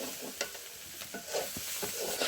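Dried chepa shutki fish being stir-fried in a village kitchen, with scraping spoon strokes against the pan over a soft sizzle, several distinct stirs in a short burst.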